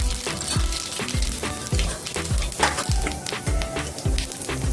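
Mustard and cumin seeds sizzle and crackle in hot oil in a kadhai, a steady loud frying hiss with sharp popping bursts throughout.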